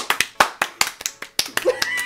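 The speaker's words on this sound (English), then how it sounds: "Round of applause." Several sharp, close claps ring out in an uneven rhythm, about a dozen in quick succession, with a voice briefly heard alongside.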